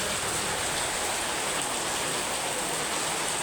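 Steady rain pours down with a dense, even hiss that stays loud and close for the whole stretch, with no voices.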